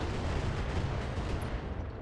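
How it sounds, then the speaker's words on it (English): An ammunition explosion in the BattleTech video game gives a low, rumbling blast that sustains steadily for about two seconds before tailing off, moderately loud and with no talk over it. "Ammo explosion, though."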